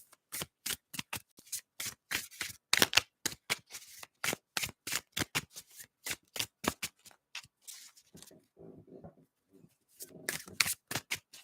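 Rapid, crisp riffling of tarot cards repeats in quick bursts up close, with a short pause of soft handling before shuffling resumes.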